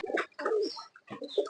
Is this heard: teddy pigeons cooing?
yes